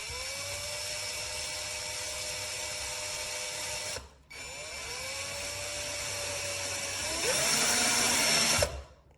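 A VIWKO 20V cordless drill driver whines steadily as it drives bolts, one long run, a brief stop near four seconds, then another rising run that ends with a slowing wind-down, loud and close with no talk.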